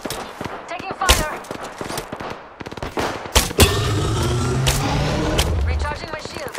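Gunfire in the battle royale game Apex Legends, a string of sharp, close shots in quick bursts, then a dense stretch of sustained firing, with in-game voice lines in between.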